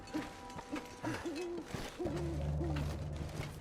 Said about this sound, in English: Owl noises.